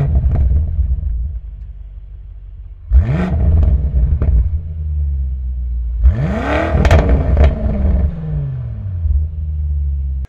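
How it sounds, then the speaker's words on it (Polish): A 2018 BMW M5 with its 600 hp 4.4-litre twin-turbo V8 rumbles deeply at idle, then barks through two sharp revs with rising and falling exhaust roar, close and loud, with no talking. "On z tego wydechu grzmi i to jest coś, czego musicie posłuchać"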